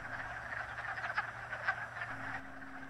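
Wood frogs at a vernal pool croak in a faint outdoor chorus of short, duck-like clucking calls that overlap irregularly, with no voices present.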